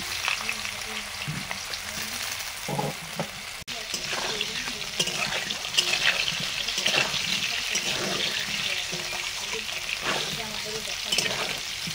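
Potatoes frying in oil with dried chillies and whole cumin, a continuous sizzle with stirring scrapes and pops, close up, a voice occasionally murmuring beneath.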